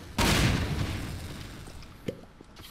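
A bomb detonates in a multiplayer video game with a loud, broad boom that rolls off over a couple of seconds, followed by a smaller sharp pop and faint scattered game noises.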